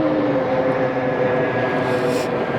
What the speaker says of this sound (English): There's a plane overhead, EasyJet, A320.